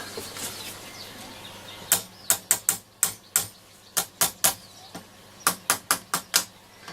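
Someone taps the casing of a Roberts R200 transistor radio, which has a scratchy volume control. Sharp, close knocks come in quick clusters of three or four over a steady background hiss.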